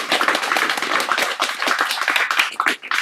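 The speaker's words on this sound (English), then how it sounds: "Let's give them another round of applause" Audience applause for poets after a hybrid in-person and online poetry reading: a modest group clapping with distinct individual claps, fairly close and lively, thinning out near the end.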